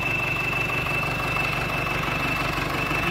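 A Sonalika 750 tractor engine, freshly fitted by a mechanic, runs at a steady idle close by, giving a continuous low rumble with a thin high whine and no voices over it.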